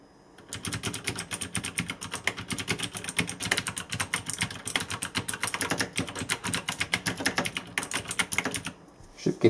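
Rapid, dense clatter of fast typing on a Tesoro T-Zone mechanical keyboard without switch dampeners, close and fairly loud, with a brief pause near the end.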